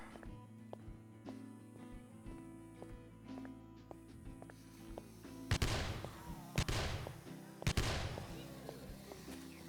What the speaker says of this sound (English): I'm trying to shoot a submachine gun.